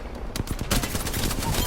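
Apex Legends video game gunfire rattles in rapid bursts of shots, sparse at first and then turning into a dense continuous volley, close and loud.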